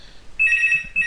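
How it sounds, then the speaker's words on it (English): A phone rings with a bright electronic trill, a short warbling tone that starts partway through and repeats, fairly close and heard alone. "I think there is a phone."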